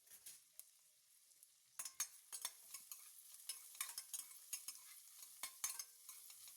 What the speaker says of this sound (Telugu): ఆనియన్ అంతా ఒకసారి బాగా బ్రౌన్ కలర్ వచ్చేదాకా ఫ్రై చేసుకుందామండి